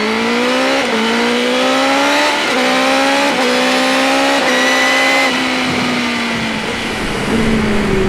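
A BMW M 1000 R motorcycle with carbon wheels, ridden hard, gives a loud engine note that climbs through the revs in repeated pulls with brief drops at each gear change, heard steadily throughout.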